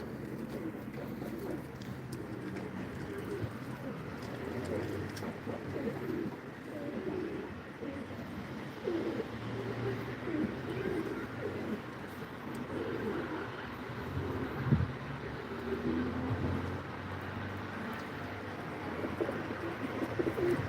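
Pigeons coo in a low, steady murmur on a rooftop terrace loft, a continuous dense layer of overlapping calls with a faint, very brief thump along the way.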